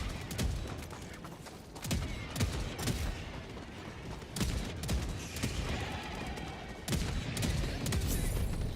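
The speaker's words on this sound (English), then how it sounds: "Autocannon's doing stuff." Heavy autocannon fire in Helldivers 2 at Helldive difficulty, a dense stream of loud, rapid booming shots with bursts and explosions over a continuous battle din, with brief voice chatter in the mix.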